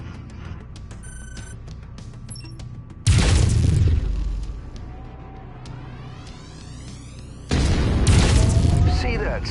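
Loud explosion bursts as a mech is destroyed by a center torso shot in the MechWarrior 5: Mercenaries video game, two heavy booming blasts rising over steady battle noise with electronic tones.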